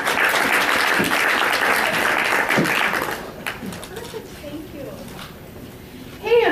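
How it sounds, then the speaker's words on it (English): An audience at a party-planning training event applauds panel speakers, a loud wash of clapping lasting about three seconds that fades into quiet murmuring and a voice speaking. "So let's give them a round of applause."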